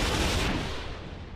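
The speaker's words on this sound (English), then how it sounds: "anti-missile and cram turrets" Anti-missile and CRAM turrets fire in the naval combat game From the Depths, giving a dense burst of rapid, booming gunfire that rumbles and then fades away over a second and a half.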